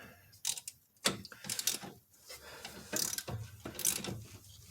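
Ratchet tightening wheel hub bolts on a 2005 Dodge Stratus RT during a rear wheel bearing hub assembly replacement: quick bursts of close, clicking ratchet strokes with short pauses between them.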